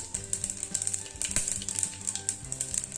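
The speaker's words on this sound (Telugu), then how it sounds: "ఆయిల్ వేడెక్కిన తర్వాత జీలకర్ర, ఆవాలు, యాలకులు, చెక్క, లవంగాలు వేసుకోవాలండి" Cumin, mustard seeds, cardamom, cinnamon and cloves fry in hot oil for mint pulav, a quiet, busy sizzle with sharp crackles and pops scattered throughout.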